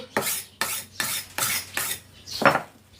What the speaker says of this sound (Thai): ต้องฝนให้คม